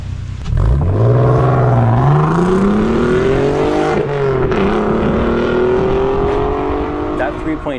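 A Mark 2 Audi TT 3.2 VR6 engine revs up and down with a rising, smooth multi-cylinder tone, loud and close, pitch climbing and falling over several seconds.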